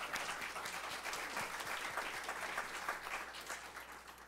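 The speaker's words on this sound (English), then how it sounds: "So we'll give her a round of applause." A round of applause for a teacher at a county school board meeting, broad even clapping from a seated audience, fairly quiet and somewhat distant, sustained without pause and with no talk over it.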